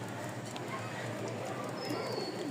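Pigeons, including Raj Gola and Girbaz breeds kept at a home loft in Mirpur, Dhaka, coo softly in a steady low murmur against a constant background hum, with faint voices nearby.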